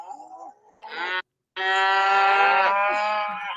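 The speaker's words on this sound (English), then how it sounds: "I hear the cows" Cows mooing on a farm: two long, loud, drawn-out moos, the second sustained for about two seconds, after a fainter lowing call, with no talking.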